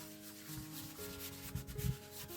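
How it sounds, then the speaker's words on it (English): Wax is rubbed by hand with the grain onto a wooden foot stool, a brief close dry scrubbing sound with a low steady hum underneath. "I'm going to rub it with the grain"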